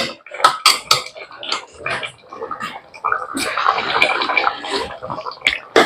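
Sliced bitter gourd being mixed with salt and pepper in a pan: scraping and clattering stirring strokes, irregular and fairly close, turning into a busier, steadier rustle of the pieces toward the end.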